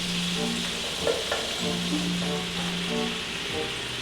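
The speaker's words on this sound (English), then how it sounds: "And we're just gonna whisk this up" Flour is whisked into sizzling skillet drippings for Swedish meatball gravy, giving a steady close frying hiss with light scraping and stirring strokes of the whisk over it.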